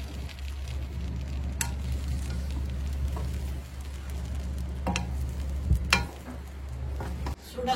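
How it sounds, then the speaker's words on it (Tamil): Samba wheat rava upma being stirred in a pan, with a low steady sizzle and hum beneath a few scattered scrapes and knocks of the spoon against the pan. "ஒரு 10 நிமிஷம் இதை திறந்துட்டு கிளறிடலாம்."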